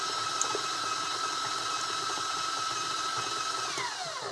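A 6-quart KitchenAid stand mixer works a small batch of bacon breakfast cookie dough, a steady whirring motor drone that holds evenly and then starts winding down at the end, close and alone.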